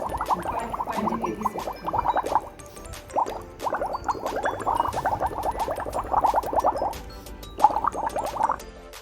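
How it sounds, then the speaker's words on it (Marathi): A boy blows bubbles through a straw into a glass of coffee, a close, continuous bubbling gurgle in rapid rippling bursts with brief pauses between breaths. "विराज बघा कसे बुडबुडे काढून कॉफी पितो आहे"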